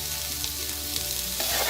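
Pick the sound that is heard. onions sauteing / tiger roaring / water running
onions sauteing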